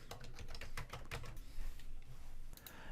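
Fast, steady typing on a computer keyboard while a chart title is entered, giving a dense run of close clicks that thins into a softer, continuous clatter over background hum.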